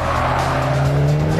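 A Mitsubishi Lancer engine drones steadily and loudly as it accelerates out of a track corner, its pitch climbing gradually, with faint tyre noise beneath.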